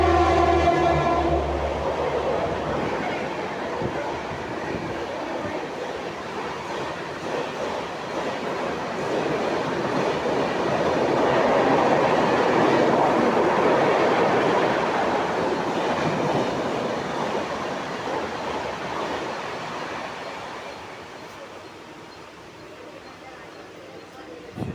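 A Mumbai suburban local train runs between Virar and Dadar in heavy rain, its steady rumble and wheel clatter loud and continuous throughout, swelling mid-ride with no talk heard.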